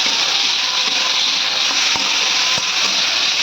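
Onion, tomato and cumin fry in hot oil with a loud, steady, close sizzle that fills the whole stretch, broken by a few faint clicks of a utensil.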